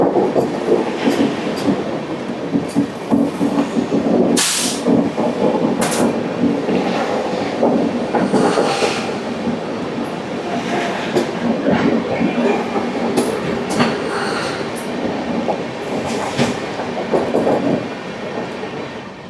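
A Humsafar Express sleeper class train running on rails, with a loud steady rumble, rhythmic clicking over the joints and occasional sharp squeals and knocks from inside the coach.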